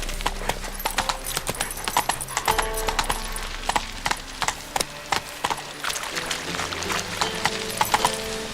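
The Witcher 3 horse Roach gallops with sharp, distinct hoof clops in a quick uneven rhythm, loud and near, over a low rumbling game background.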